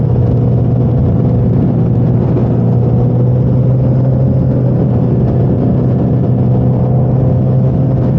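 A Scout cruiser motorcycle engine rumbles steadily and loudly up close, with a constant low drone and no clear revs or speech.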